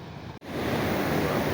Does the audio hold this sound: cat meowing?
no